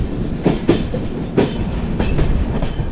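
12686 Mangalore Chennai Superfast train running on rails, with a steady low rumble and clickety-clack wheel beats recurring irregularly, close and fairly loud with no talk.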